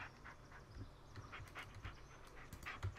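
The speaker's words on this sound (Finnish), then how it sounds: "silitetään sitten koira" A dog pants softly and steadily in the Blair Witch video game, quick breathy huffs repeating over a low rumbling background, fairly faint and close.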